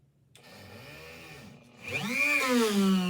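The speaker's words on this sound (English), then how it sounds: "I'm using my Dremel because it's easy to handle." A small Dremel rotary tool whines at high speed, drilling holes, its pitch sweeping up and down as it bites into material, loud and close with no talking.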